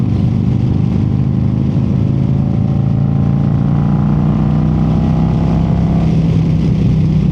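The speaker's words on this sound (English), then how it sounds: "And the exhaust sounds amazing." A loud, cammed and tuned 2025 Harley-Davidson Road Glide motorcycle engine rumbles continuously with a deep exhaust drone, the pitch gradually rising as it accelerates, heard up close while riding.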